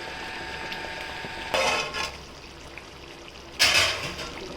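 Stirring chicken curry with green chillies and coriander in a pot: two short bursts of scraping and clinking from a utensil against the vessel, close and clear over a steady low background hiss.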